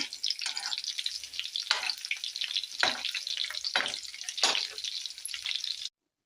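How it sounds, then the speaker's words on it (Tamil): Fish pieces fry in hot oil for a Tamil fish curry, making a close, busy sizzle with sharper crackling bursts that cuts off abruptly near the end, with no voices. "பாருங்க சூப்பராக ஃபிஷ் ஃப்ரை பண்ணியாச்சு இப்போது இதை எடுத்துடலாம்"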